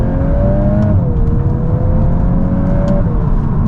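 A VW Golf R MK8 pulls hard on a wet road after a downshift, its engine roaring loudly and continuously with a pitch that rises, dips at the gear change and climbs again, heard from inside the car.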